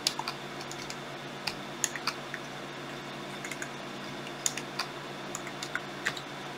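Close typing on a computer keyboard while entering settings, with irregular quick clicks and a few sharper key strikes over a quiet steady electronic hum, no speech.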